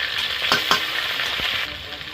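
Ginger-garlic paste sizzling in hot oil in a pan with cinnamon and cardamom for a chicken soybean curry, a steady close frying hiss with a few brief stirring clicks.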